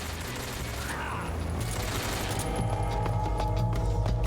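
Video game gunfire rattles in rapid bursts during a blindfolded speedrun, a steady stream of shots and booms with faint talk underneath.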